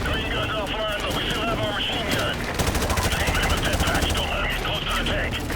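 Rapid bursts of machine gun fire in Call of Duty: Modern Warfare Remastered rattle continuously, with a denser stretch of rhythmic shots midway and other game noise mixed in.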